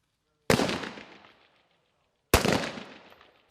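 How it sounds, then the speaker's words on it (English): Two live rifle rounds fired at an outdoor 25-metre shooting range, each a sharp, loud crack with a long decaying echo, spaced about two seconds apart, with no voices. "Today, at the 25-metre shooting range, they're using live rounds for the first time."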